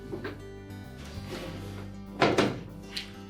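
A few soft plastic clicks and thunks as a Whirlpool refrigerator's plastic end cap is pressed into the liner grooves, with one sharper snap as it seats, over a faint steady hum.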